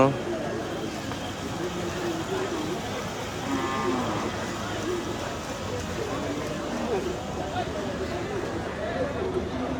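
Cattle moo among a noisy outdoor crowd at the Gabtoli cattle market in Dhaka, with people talking throughout and a steady background hubbub.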